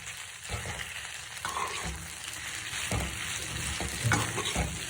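Onion with black salt and chaat masala is stirred in a pan over a low gas flame. A steady soft sizzle runs throughout, broken by several scraping stirs, close and with no voices.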